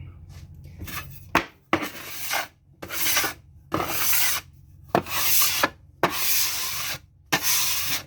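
A Dollar Tree bench scraper drags across a kitchen counter while cinnamon roll dough is being handled, giving about eight loud, harsh scraping strokes in a steady back-and-forth rhythm, each separated by a short pause, with no talking.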